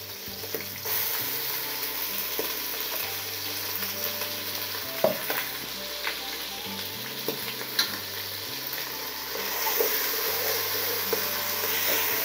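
Two spoons of ginger garlic paste fry in a pot for mutton biryani, a continuous close sizzle with intermittent stirring clatter and a low steady hum underneath.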